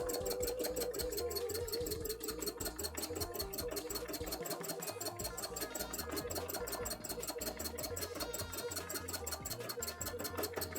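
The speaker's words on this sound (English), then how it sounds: "So just sewing over the top of the orange and then bringing it out and sewing some new red ones." A sewing machine runs at a rapid, even stitching rhythm as it embroiders red thread over orange on a cosplay panel, a steady mechanical whir heard up close without speech.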